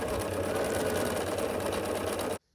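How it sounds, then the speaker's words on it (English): A sewing machine stitches quilt squares together for a Friendship Star quilt block, giving a steady, continuous mechanical whir that runs close and loud, then cuts off abruptly. "And then I'm just gonna sew down the side here."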